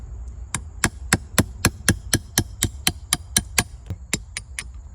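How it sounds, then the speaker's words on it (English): A 10 millimeter socket being hammered to tap out a bushing while a heel-toe shifter is fitted to a Royal Enfield Super Meteor 650: about sixteen sharp metallic strikes in a quick, even rhythm, close and alone. "we're going to use. gonna tap out that bushing."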